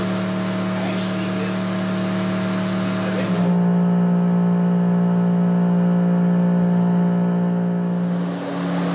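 A Mercedes E63 AMG 6.3-litre V8 runs loud and close with a steady droning hum. Its pitch shifts partway through as the engine note settles into a sustained tone, and faint voices sit underneath it.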